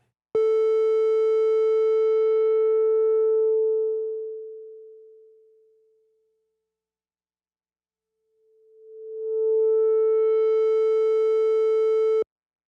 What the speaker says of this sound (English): That's just the cutoff frequency being manipulated.